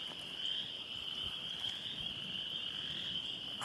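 Frogs call outdoors at dusk in a steady, continuous chorus with a shrill high trill, with wind noise rumbling low underneath and no talking.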